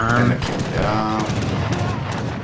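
Musket volleys crackle in an Age of Empires III battle with dense, overlapping gunfire. A commentator talks over the loud, rapid shots.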